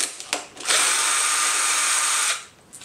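Power tool spinning out 10 mm hex head bolts from the crossbar of a 2021+ Yamaha MT-07 during a fender eliminator install: a short taps-then-steady high whine lasting under two seconds, close and loud.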